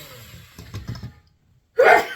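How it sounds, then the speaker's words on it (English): A person sneezes once in a kitchen while mixing banana bread batter with peppers, a sharp burst following a quick inhale, alone and close. "I've got sneezes again."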